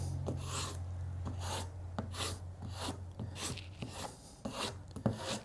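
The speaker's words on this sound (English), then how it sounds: "Now, I will just use the hammer on this." Hammer tapping down freshly glued wood veneer edges in a woodworking shop, a steady series of about a dozen light, sharp taps at an even rhythm, close and moderately loud with no talking.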